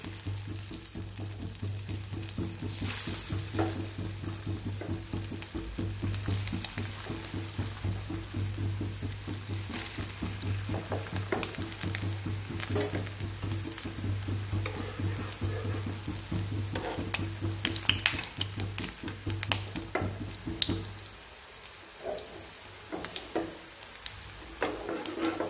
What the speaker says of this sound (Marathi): त्यामध्ये आपण ही टिक्की टाकून याला आपण फ्राय करून घेऊया.